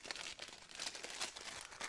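Individual plastic bags holding GoPro accessories crinkle and rustle softly during unpacking, a faint, continuous close-up crackling with no voices.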